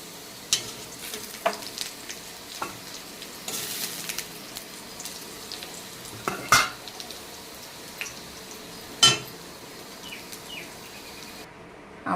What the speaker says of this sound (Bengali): আমার আলু ভাজার তেলের ভিতরে একটু তেল দিয়ে দিয়েছি, এর ভিতরে আমি ফোড়নে দিয়ে দেবো একটু জিরা